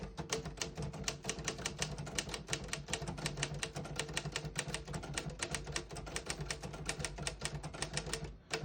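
Rapid, steady clacking of keys on a 1953 Royal HHP manual desktop typewriter, dozens of strikes in quick succession, close and crisp with no talking.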